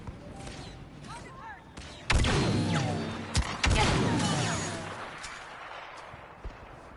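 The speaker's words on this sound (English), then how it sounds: "Where's that guy shooting at me from?" Blaster gunfire during a Star Wars Battlefront 2 multiplayer match comes in sharp bursts, with a loud volley and heavy thumps midway and scattered shots after, under a player's talk.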